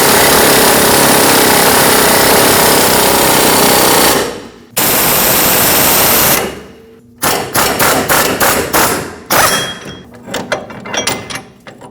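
A new lower ball joint is pressed into the control arm of a 2005-2021 Nissan Frontier 2WD, with a loud sustained mechanical roar that cuts out, then a run of rapid hammering impacts.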